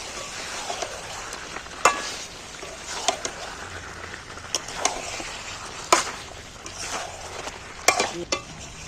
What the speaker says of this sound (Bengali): এখানে আমি চার পিস আলুও ডবকাই তুলে দিচ্ছি নাড়তে নাড়তে সেদ্ধ হয়ে যাবে